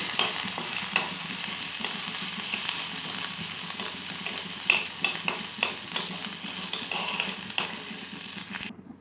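Panch phoron spices and crushed ginger crackle in hot oil, a dense, close sizzle with spatters and occasional spoon taps, steady until it cuts off at the end, no voices.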